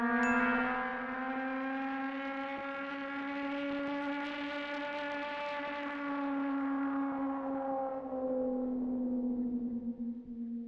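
A single sustained Prophet synth note with rich, steady harmonics whose tone gradually brightens and swells in the middle under mod wheel automation before easing back, playing alone for about ten seconds.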